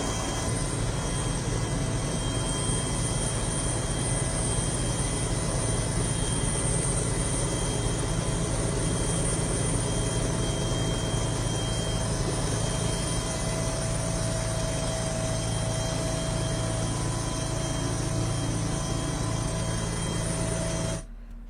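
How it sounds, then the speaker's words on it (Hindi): A helicopter flies over crowds of pilgrims at the Mahakumbh 2025 Basant Panchami bath, showering flowers. Its engine and rotor make a constant, loud, unbroken drone with no voices, and the drone cuts off at the very end. "श्रद्धालुओं पर हेलीकॉप्टर से पुष्प वर्षा कराई गई है"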